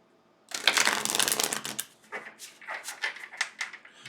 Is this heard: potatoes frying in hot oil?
no